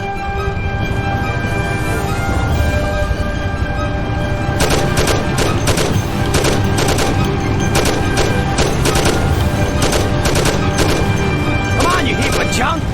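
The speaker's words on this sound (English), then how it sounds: "Take my Thompson. You and Sam shoot them." Bursts of Thompson submachine gun fire in a Mafia action game, rapid cracking volleys over a droning engine and game music, with voices talking throughout.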